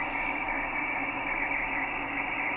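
Radio atmospherics interference on a receiver: a steady, dense hiss of static with crackling texture, continuous and fairly loud throughout, with no voices.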